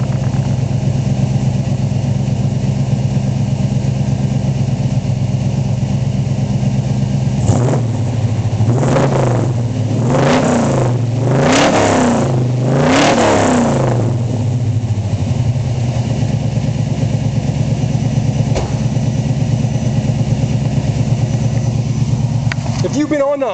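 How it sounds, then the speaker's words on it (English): A 1985 Chevrolet C-10 Silverado square-body truck with dual exhaust runs steadily, its low engine rumble swelling through several quick revs in the middle before settling back to a loud, even idle. "Real nice tone from the dual exhaust."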